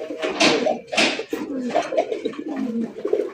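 Fancy racer pigeons coo repeatedly inside a cage, close and loud, in a steady run of overlapping calls with a faint rattle of the cage.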